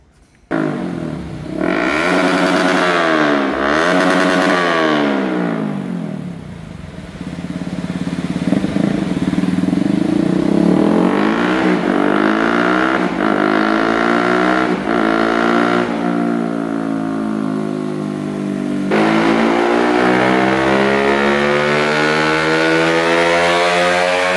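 Yamaha R15 V3 motorcycle engine revving through an aftermarket exhaust, heard close and loud in repeated sharp rises and falls of pitch, then longer sustained high revs, with no talking.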